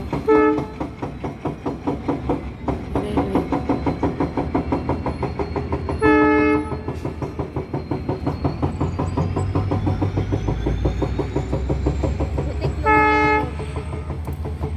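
A train passing on a railway: a loud, steady rumble and clatter of wagons close by, with two short horn blasts partway through.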